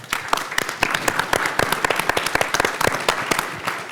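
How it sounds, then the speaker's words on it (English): Audience clapping at an iBRIDGE 2023 engineering event, a loud close burst of many hands with dense, irregular sharp claps running steadily throughout. "let me like clap for all of the women in the room"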